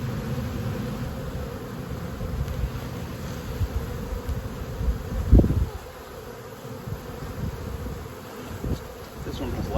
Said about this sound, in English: This one has lots of bees.